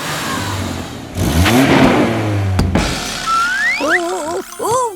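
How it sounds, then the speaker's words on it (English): A cartoon vehicle's engine revs loudly in a garage, rising and falling in a couple of surges, followed by wobbly voiced tones near the end. "Let's have a nice loud rev."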